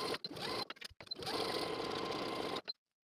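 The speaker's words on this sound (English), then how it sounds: "edge stitch along both sides to seal" Sewing machine running steadily as it edge stitches both sides of a long, thin folded fabric strip, close and loud, with a couple of brief pauses before stopping near the end.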